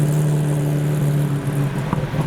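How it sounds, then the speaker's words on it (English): A Porsche 964 Carrera RS pulling away from a car show, its engine giving a steady loud droning hum that shifts slightly as it moves off, with no talking. "This 964 sounds amazing"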